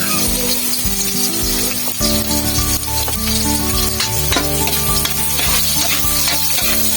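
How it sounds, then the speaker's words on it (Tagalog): Chopped onion and garlic sautéing in a pan for chicken curry, a steady loud sizzle with scraping stirs and clinks of the utensil, no voices. "Sunod na lang natin itong bawang."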